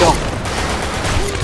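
A loud, dense burst of gunfire from the online shooter Blackshot fills the whole short moment without any gap.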